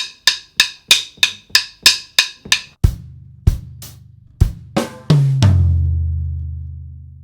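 A drum kit plays a shuffle bar from a Grade 4 piece: a run of evenly spaced sharp hits, then heavier strokes with low drum resonance, ending on a closing hi-hat and a long ringing decay, close and alone.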